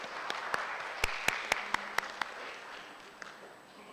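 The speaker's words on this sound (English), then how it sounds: "Ladies and gentlemen, please give a round of applause to Encik Burhanuddin" Sparse clapping from a small audience at an academic lecture on Islamic investment: about a dozen distinct, sharp claps spread over a few seconds, quiet and close, with no crowd roar behind them.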